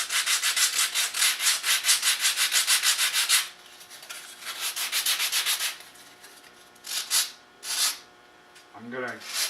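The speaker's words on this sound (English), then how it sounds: "I might have to rasp off a little more" A rasp is dragged back and forth across the foam hull of a scratch-built model ship. The strokes are rhythmic and close, scratchy and fairly loud, with pauses between short bursts and a brief handling noise near the end.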